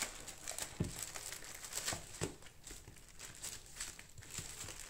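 Paper documents and a plastic bag from a Testo 760-2 digital multimeter package are handled, giving close, quiet crinkling and rustling with scattered sharper crackles and no speech.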